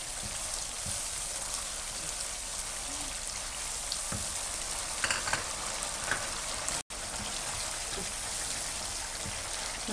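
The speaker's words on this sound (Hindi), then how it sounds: "अब हम दाल को और गोश्त को डाल कर भूनेंगे।" Dal and mutton being fried in masala for Pakistani achari dal gosht, giving a steady broadband sizzle with scattered pops and crackles, close and continuous across the clip with a brief break near the end.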